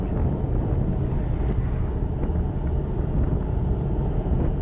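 Headwind blasting across the microphone during a road bike ride, a dense, constant low roar of wind noise filling the whole clip with no other clear sounds.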